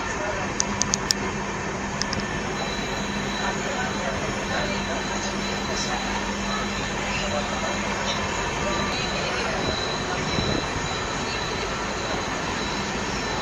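A passenger train runs through Chapramari forest in a wildlife sanctuary, heard from inside as a steady loud rumble of wheels on rails with faint voices underneath.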